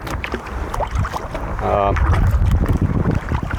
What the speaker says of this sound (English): I'm kayaking to an island about 10 kilometers, a little bit less, and stay night there to paint